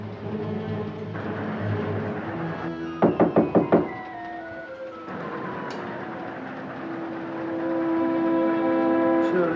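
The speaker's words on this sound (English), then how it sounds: "you come pounding on this door again" Sharp knocking and pounding on a train compartment door aboard a moving train: a quick run of about five hard raps in the middle, set against continuous rolling train rumble and clatter.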